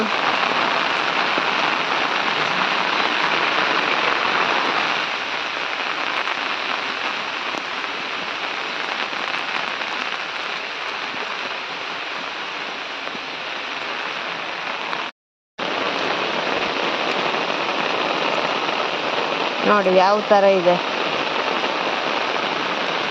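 Steady, dense monsoon rain hisses continuously close by on a damaged road, with a brief dropout midway and a person speaking briefly over the downpour.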